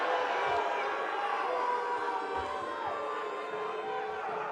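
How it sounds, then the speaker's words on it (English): A basketball arena crowd at an ENBLeague game between Tindastoll and Riga Zelli jeers the referees after a foul, a dense, sustained roar of many voices with a commentator speaking over it. "The crowd letting the referee crew hear it"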